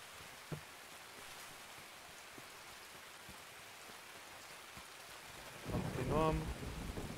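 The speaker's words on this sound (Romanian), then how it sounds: "Sper să mă aud de ploaie." Steady rain falls throughout a rainy map in the video game Escape from Tarkov, a constant hiss with a few soft thumps, joined near the end by a louder burst of tonal game noise.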